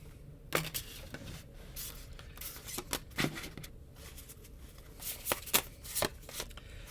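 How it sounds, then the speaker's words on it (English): Tarot cards are picked up and shuffled close to the microphone, giving quiet, irregular riffling flutters and soft slaps in short bursts. "dropped some cards. I'm just going to pick them up"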